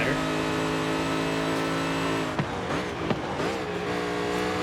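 A 2005 Ford GT in Forza Horizon 5 holds a loud, steady engine drone, then shifts and revs hard with rising and falling pitch and brief tire squeals, up close, while someone talks over it.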